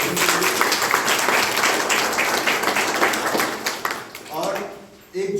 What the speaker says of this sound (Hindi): एक बार जोरदार तालियां इस कैंप के आयोजन के लिए